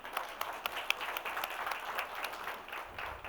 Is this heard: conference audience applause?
yes